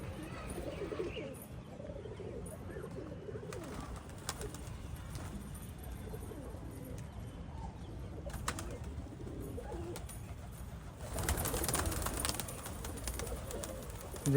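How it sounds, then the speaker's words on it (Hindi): Pigeons coo softly and repeatedly outdoors, low murmuring calls under a steady outdoor wash, with a few wing-flap bursts and brief chirps, rising busier near the end. "और वो वाला कबूतर तो वो रहा ऊपर।"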